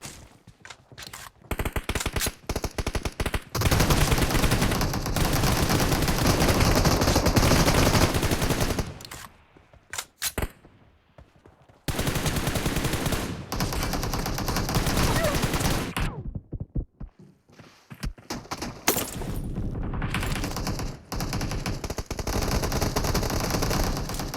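Automatic rifle fire from the video game PUBG Mobile, loud rapid bursts and sustained volleys broken by brief silent gaps, close and dominant throughout.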